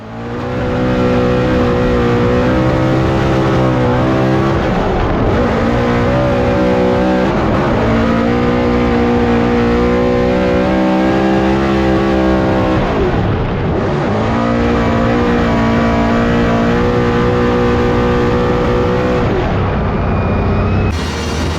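A loud race car engine, a Honda CRX, roars at high revs throughout, with a rough, stuttering break-up in the tone at a couple of points as failing plug wires cause misfires.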